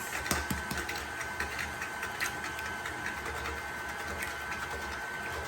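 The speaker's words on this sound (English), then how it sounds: "I'm going to turn that mixer on just to combine" An electric mixer with a whisk attachment runs steadily, combining cookie batter for chocolate crinkle cookies, a continuous mechanical whir with faint rattling clicks throughout and no talking.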